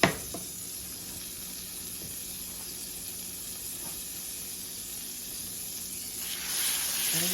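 Pork chops sizzle in a skillet of olive oil and butter, a steady close hiss of frying that swells slightly toward the end, with no one talking.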